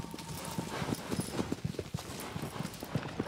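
Horse hooves galloping across desert sand in the video game Shadow of the Colossus, a quick, continuous clip-clop rhythm, moderately quiet and steady, with no talk over it.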